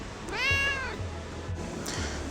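A single drawn-out meow, close and fairly clear, followed by quiet background sounds; a person imitating a cat.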